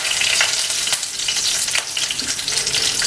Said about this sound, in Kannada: ಎಣ್ಣೆ ಕಾದ ನಂತರ ನಾವು ಕರಿಬೇವಿನ ಸೊಪ್ಪನ್ನ ಹಾಕಬೇಕು.